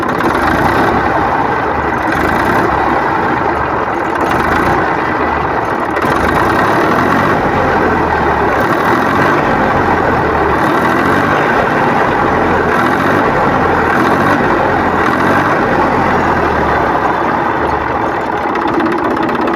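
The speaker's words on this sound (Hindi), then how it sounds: "जैसे ही हम ये आरपीएम लीवर को दबाएंगे ठीक उसी समय इसके साथ साथ इंजन आरपीएम, इंजन स्पीड को बढ़ना चाहिए" A tractor's diesel engine runs steadily and loud throughout, a continuous low rumble with a slight lift in pitch as the RPM lever is pressed, with no talking over it.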